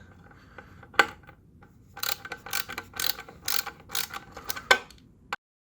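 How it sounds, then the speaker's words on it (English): Torx screws being removed from the underside of a BMW R1200GS Adventure motorcycle with a ratchet, producing rapid clicking pawl bursts in short runs, close and clear, with no talk. "let's go ahead and remove all these screws. Torx screws."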